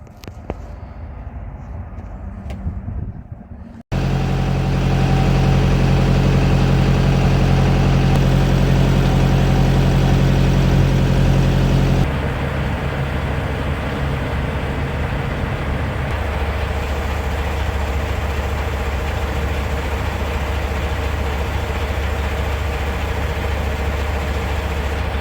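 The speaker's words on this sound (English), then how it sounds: "So I'm just doing that before I fire it up and run it through its pre-trip." A Mack truck diesel engine fires up after a few seconds of quiet, then settles into a steady, loud, close low idle that continues unbroken.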